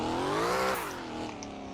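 A car drifting in the video game Fix It Up, its engine revving with a rising, sliding tone and a brief tire squeal, loud and close over a short stretch.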